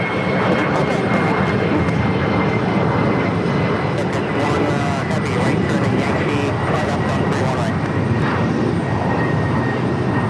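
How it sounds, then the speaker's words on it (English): An Airbus A330-300 taxis toward takeoff on runway 4 left at JFK, its jet engines a loud, steady roar throughout, with a commentator talking over it. "A330-300 also making its way down for a takeoff on 4 left."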